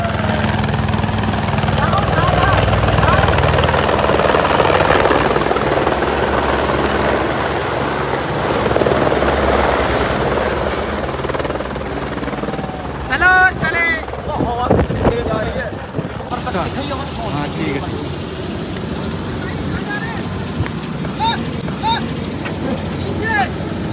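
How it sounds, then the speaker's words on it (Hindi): A helicopter arrives and flies near the Alaknanda–Bhagirathi confluence on the way to Kedarnath, its loud steady rotor roar and wind buffeting filling the whole stretch, with brief voices and clatter toward the end. "तो गाइस मेरा हेलीकॉप्टर आ गया"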